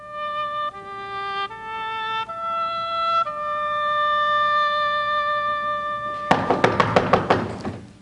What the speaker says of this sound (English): I'll thank you to knock a little lighter.